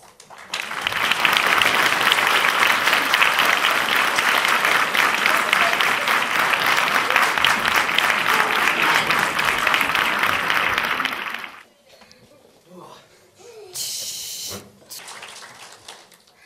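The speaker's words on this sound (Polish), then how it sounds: "Dziękujemy za te brawa." Loud, sustained applause from a studio or concert audience at a Polish charity show for about ten seconds, then it fades into quieter room noise and brief sounds.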